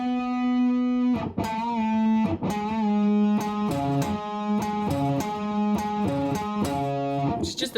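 A loud, distorted electric guitar plays a chugging riff of sustained power chords, shifting pitch every second or so with sharp picked attacks; the second guitar part of the chorus.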